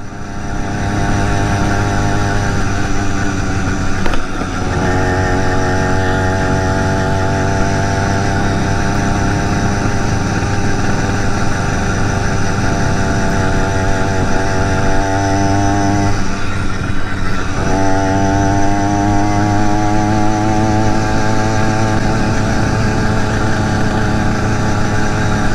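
A BT 100 motorized bike engine runs steadily and loud for the whole stretch, a dense buzzing drone with rising and falling pitch as the throttle varies, briefly dipping twice before picking back up.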